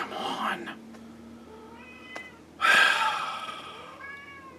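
A house cat meows loudly nearby, with a short cry first and then a longer, drawn-out yowl, while a person talks briefly in between.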